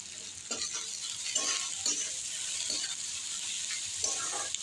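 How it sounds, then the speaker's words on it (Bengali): Onion, garlic and green chilli frying in a pan with a steady, soft sizzle, broken by several brief scraping stirs of a utensil against the pan, close and fairly quiet. "পুরো পেঁয়াজ রসুন আর কাঁচা লঙ্কাটা লাল করে ভেজে নেব"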